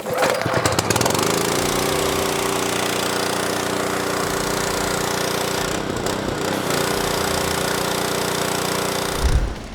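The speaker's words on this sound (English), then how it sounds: "We're ready to start the pressure washer." A pressure washer's small engine starts, catches and runs with a loud, steady, rough drone that continues nearly unbroken. A brief dip in the middle comes before the engine settles back in.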